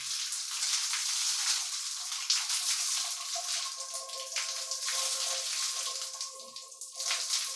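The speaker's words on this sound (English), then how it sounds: "So I'm going to rinse my hair." Water from a shower runs steadily while shampoo is rinsed out of hair, a continuous close hiss and splatter with shifting patters as it strikes the head.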